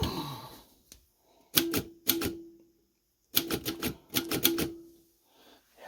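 A 105-year-old Remington Junior typewriter being typed on up close, with two short bursts of sharp mechanical key strikes in quick clusters separated by quiet pauses.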